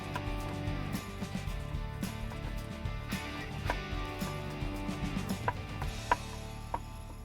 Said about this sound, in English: now we can go around and put the screws back in and tighten them down with our Torx 20 driver